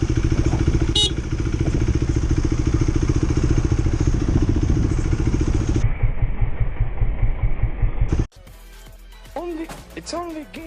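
A motorcycle engine on the road: a loud, close, rough idling throb runs for about eight seconds, its tone dropping partway, then cuts off abruptly to a quieter passage where a voice speaks.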